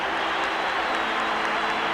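Sustained crowd applause fills a 1978 Knicks vs Celtics basketball arena, a steady even roar of many hands clapping at moderate loudness with no pauses.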